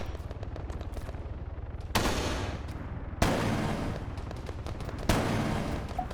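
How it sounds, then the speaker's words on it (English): Rapid gunfire in the video game Arma 3 rattles continuously from a building ahead, with louder bursts of sharp, dense shots breaking in at intervals, fairly close and without talk. "We can hear gunfire coming from one of the buildings in front of us."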